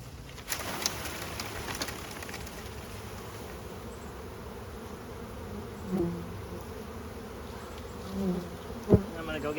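Honeybees in a rescued colony hum in a steady, moderate drone after a gentle shake, with a few soft knocks and bumps and faint bird calls in the background.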